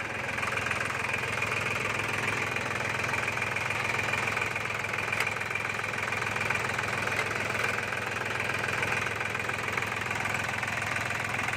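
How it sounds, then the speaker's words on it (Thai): A three-cylinder diesel tractor engine idles steadily nearby, a constant rattling, knocking chug that holds without change throughout. "เครื่องยนต์สามสูบ ดีเซลสามสูบ"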